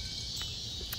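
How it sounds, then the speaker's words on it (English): Cicadas buzz at dusk near a suburban shopping center, a faint, steady high-pitched drone that hangs in the background with a couple of brief brighter pulses and no talking. "that noise you guys hear, those are cicadas"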